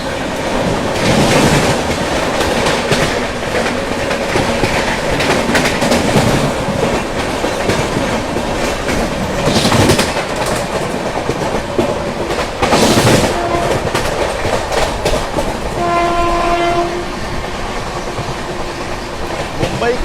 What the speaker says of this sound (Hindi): मुंबई के सबअर्बन में एंट्री करते ही क्या ज़बरदस्त भाग रही है अपनी राजधानी।